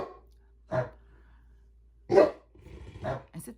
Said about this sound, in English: Dogs are always jump up and bark out of nervousness